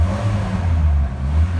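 A Jeep engine revs up close on a startup, giving a loud, continuous low drone that swells slightly over a second or two.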